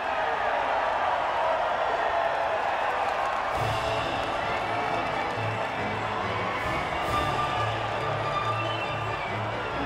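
Crowd cheering and applause at the podium after a wet-weather Russian Grand Prix in the F1 2018 racing game, a broad steady roar that runs loud throughout, with a low rumbling bed entering partway through.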